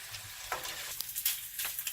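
Bacon fries in a pan while cooking until crispy, giving a steady soft sizzle with faint crackles and pops and no voices.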